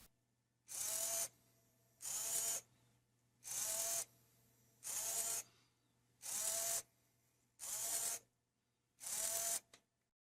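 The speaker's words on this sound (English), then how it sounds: "Here I am using a for loop to move the motor from 0 to 180 degrees 5 times back and forth." An Arduino-driven servo motor with a wheel attached sweeps back and forth, giving seven evenly spaced, whining motor bursts against a quiet background with a faint steady hum.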